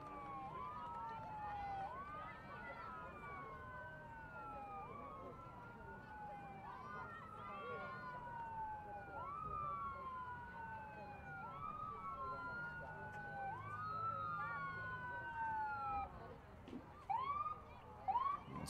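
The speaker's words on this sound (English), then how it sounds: "Sirens out here in the corner of Clinton and Washington Center." Emergency vehicle sirens wail in a steady repeating rise-and-fall near a girls' high school soccer game at a street corner, moderately distant and continuous under the outdoor field ambience.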